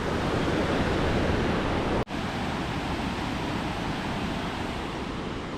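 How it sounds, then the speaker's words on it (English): A steady, loud roar of rushing water from Spokane Falls in Washington, dense and unbroken, with a brief dropout partway through before the roar resumes. "Washington at the Spokane waterfall."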